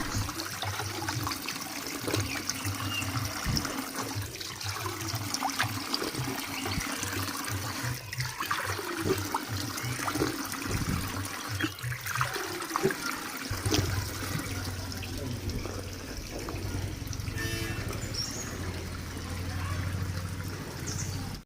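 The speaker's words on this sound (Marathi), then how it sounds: "आता या गोमुखीतून ही गंगा बाहेर आलेली आहे मित्रांनो पहिला आतमध्ये पाणी येतं त्यानंतर इथून बाहेर येतं पाणी" Water pours steadily from a cow-mouth stone spout at a hillside shrine in Devgad taluka, a continuous close splashing flow that runs alone throughout, with faint voices briefly in the background.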